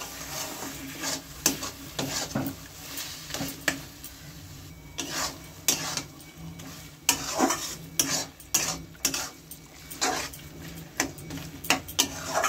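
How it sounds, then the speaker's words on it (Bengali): Ilish fish head and taro leaves being sautéed in a pan, with repeated scraping stir strokes and soft sizzling, spatula hits on the metal coming in irregular bursts up close, with no talking. "তবে আর একটু কষবো মনে হচ্ছে, আর একটু কষিয়ে নিতে হবে"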